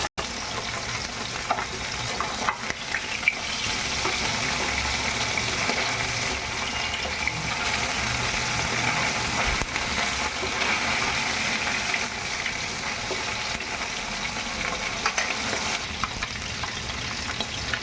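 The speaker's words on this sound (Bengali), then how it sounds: "মাছগুলো ভাজা হয়ে গেছে, নামিয়ে নেব।" Tengra fish frying in hot oil in a pan gives a continuous, bright sizzle that holds steady throughout, close and fairly loud, with no voices.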